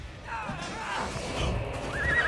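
A horse in Assassin's Creed Odyssey whinnies with rising, wavering calls over a steady game background, growing louder toward the end, mixed with faint talk.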